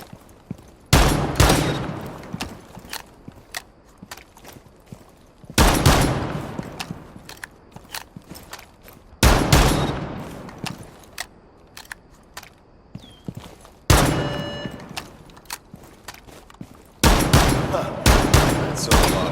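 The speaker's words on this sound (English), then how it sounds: "because it's semi-automatic, it will cycle shells relatively swiftly" Semi-automatic shotgun fire in Rainbow Six Siege: five loud blasts spaced a few seconds apart, each followed by a ringing decay and faint clicks of shells cycling.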